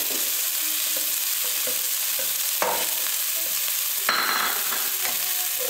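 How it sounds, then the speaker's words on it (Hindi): Garlic and onion sautéing in ghee, a continuous close sizzle broken by a few soft clinks and stirring scrapes, with no talking. "2 टेबलस्पून घी ले लिया, उसमें ये 1 टेबलस्पून लहसुन डाल रहे हैं और इसको सौते कर रहे हैं। ये प्याज डाल रहे हैं"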